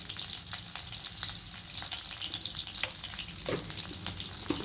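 Drumstick (moringa) stems fry with salt in a pan, giving a soft, steady sizzle broken by repeated sharp clicks and scrapes of stirring, close and fairly quiet with no voices.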